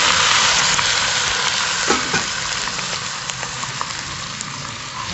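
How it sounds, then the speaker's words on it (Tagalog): Pork sizzles and fries steadily in a pan with sautéed garlic and onion, cooked outdoors, a dense continuous crackle with a couple of brief stirring scrapes near the start. "At ito yung aking pork. At ilalagay ko na rito."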